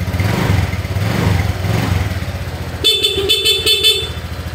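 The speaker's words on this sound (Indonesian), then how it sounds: "Dan motor kita nyalakan, insya Allah akan normal kembali." A Honda fuel-injected motorcycle engine runs with a steady low, close putter. Midway, a quick series of sharp electronic beeps pulses over it. No one speaks.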